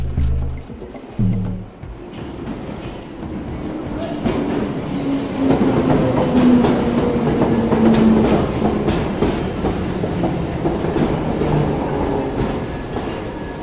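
A train passes close by, with a steady rumble and rhythmic clickety-clack of rolling wagons that swells and holds for several seconds, after a few scattered knocks at the start.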